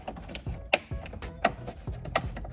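A ratchet drives screws into a new dash gauge panel in a Foxbody with a 1JZ GTE VVT-i swap, giving quick repeated clicking strokes with three sharp louder clicks, close up and with no talking.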